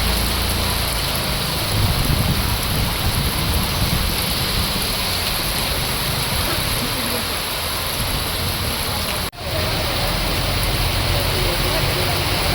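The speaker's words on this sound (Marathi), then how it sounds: "धोकादायक असा हा पाऊस अजूनही सुरू असल्यामुळे धोका निर्माण झाल्याचं दिसेल" Heavy monsoon rain pours over Karjat town, where the main roads are flooded: a dense, steady roar of rainfall that stays loud and unbroken except for one brief dropout partway through.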